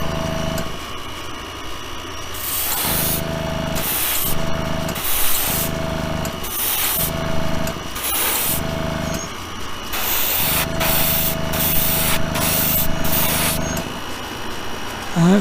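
Short bursts of spray paint laying tack coats on a diecast Lamborghini Centenario, roughly ten hissing passes of a second or so each with brief gaps between, close and steady with no talking.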